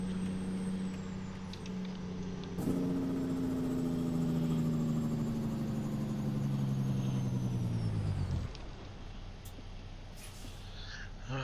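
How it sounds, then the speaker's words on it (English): A big truck's engine in American Truck Simulator revs and drones with a rising then falling pitch, with its Jake brake, ending in a sharp hiss of air brakes before it settles to a low idle. "Thank God for Jake brakes."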